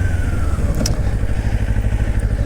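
A motorcycle cruises through a residential neighborhood with a steady, close engine rumble and a low, even throb that runs unbroken, with a brief clatter near the start.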